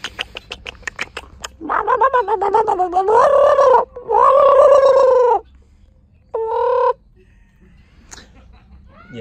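A man imitates a chicken with a rapid string of short clucks leading into several drawn-out, warbling crowing calls and a final brief squawk, close and loud against a quiet background.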